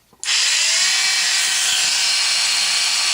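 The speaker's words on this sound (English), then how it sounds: "longer grinding tool, which I'm going to put inside the mortise and grind it so that I can open this slit a little bit more" A rotary grinding tool bites into a mortise slit in a small wooden mannequin doll, starting abruptly and holding a loud, steady high-pitched whine up close, with no talk.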